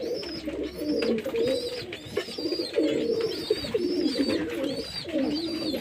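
Pigeons in a coop coo in repeated, rolling phrases, close and fairly loud, with soft overlapping calls from several birds and no talking.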